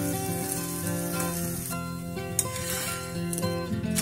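Oats chilla fries in a hot pan with a steady, close sizzle and crackle running throughout, music playing underneath.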